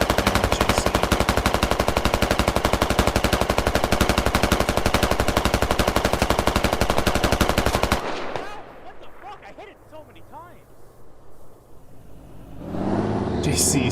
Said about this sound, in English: It's AA gun.